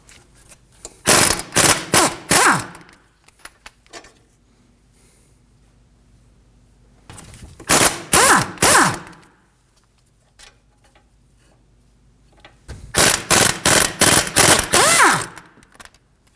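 Bolts holding the hub to the knuckle on a 2013-2015 Subaru XV Crosstrek are spun out with a 14mm socket on an impact wrench, in three loud, near bursts of rapid hammering separated by quiet pauses.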